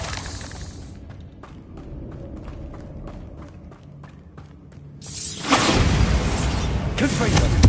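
Bombarda explosion spell cast in Hogwarts Legacy: a quieter stretch of rhythmic clicks and low rumble, then a sudden loud, crashing blast that roars and shatters on to the end, with a voice talking over parts of it.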